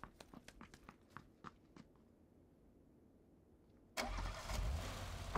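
A Dacia car in the PUBG battle royale game cranks and starts with a sudden burst of engine noise that settles into a loud, close idle, preceded by a few sharp clicks or footsteps.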